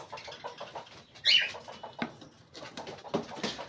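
Small caged birds kept with a nesting box coo softly in quick, rhythmic notes, with a brief flurry of wing flapping and a few light knocks nearby.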